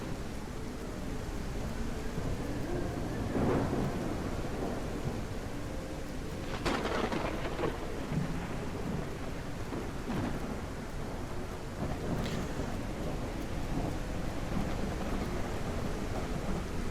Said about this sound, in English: and of course, it's storming again.